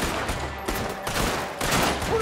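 Mauser pistols firing in a fight, a dense crackle of rapid shots in bursts across the whole stretch, loud and close, with no talk over it.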